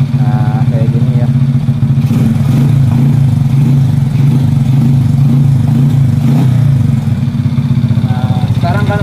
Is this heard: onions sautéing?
no